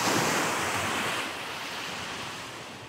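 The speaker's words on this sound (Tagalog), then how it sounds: "Yan po yung tama ng alon, yan sa likod na ng bahay nila." Ocean surf pounding the shore right behind seaside houses at a barangay shoreline in Mondragon, Northern Samar, a steady loud roar of breaking waves with wind buffeting the microphone, easing slightly partway through.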